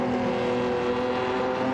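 A Honda NSX race car in Gran Turismo 7 accelerates hard out of a hairpin at Suzuka, its engine note a loud, sustained rising drone.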